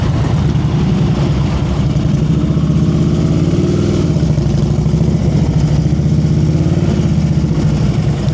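A motorcycle engine loping at low speed during slow-speed riding practice in North Carolina, a loud, close, steady mid-pitched rumble with slight rises in revs, and no talking over it.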